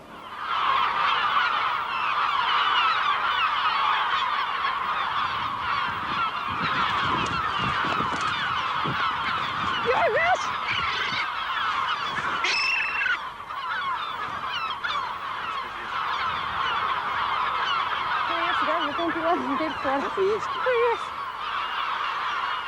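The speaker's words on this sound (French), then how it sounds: "Elle s'occupe de la colonie la plus nombreuse, celle des goélands." A large colony of gulls on the Berlengas islands calls continuously, a dense overlapping wash of cries close and loud, steady throughout with individual squawks standing out.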